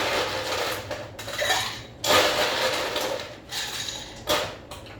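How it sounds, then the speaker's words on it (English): Ice cubes clatter into a cocktail glass or shaker for a drink with rosemary simple syrup, several bright clinking drops in quick bursts, close and fairly loud. "So we'll add our ice."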